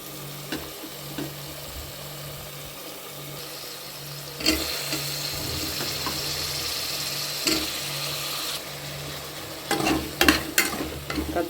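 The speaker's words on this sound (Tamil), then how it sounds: "கத்திரிக்காயும் போட்டு நல்லா வணக்கிக்குங்க." Chopped eggplant with salt sautéed in a pan for eggplant biryani, heard as soft sizzling under repeated scrapes and stirs of a utensil, with louder clattering strokes near the end.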